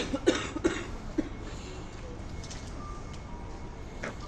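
A few short coughs near the start, three quick bursts in the first second and a half, then quiet outdoor background.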